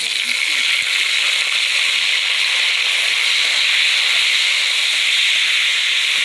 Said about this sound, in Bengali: এবার দিয়ে দিচ্ছি টমেটো কুচি